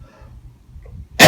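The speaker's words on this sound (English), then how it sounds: "if you're worried about me coughing in my hand" A single abrupt, loud cough from a man delivering a sermon in an empty church building, bursting out at the very end after a near-silent pause.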